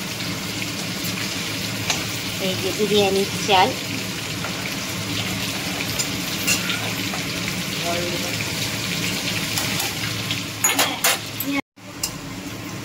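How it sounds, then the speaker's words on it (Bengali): Potatoes fry in oil until reddish for a home biryani, a dense steady sizzle with scattered clinks and a brief break near the end, while a person speaks briefly over it. "এবার আলুগুলো লাল লাল করে ভেজে নেব।"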